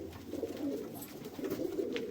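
Several pigeons give soft, rolling coos that overlap in a steady low murmur, quiet and near, with no voices.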